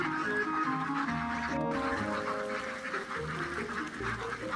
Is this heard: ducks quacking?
yes